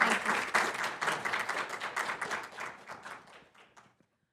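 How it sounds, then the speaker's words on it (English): Audience applauds a student team at an engineering student showcase: a dense burst of clapping from a crowd, loud at first and then thinning out and tapering to silence after about four seconds. "can we get another round of applause for this team?"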